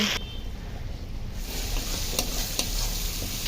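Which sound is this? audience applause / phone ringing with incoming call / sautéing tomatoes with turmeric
sautéing tomatoes with turmeric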